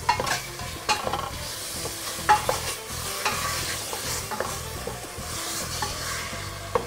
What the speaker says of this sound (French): Et on vient remuer le tout.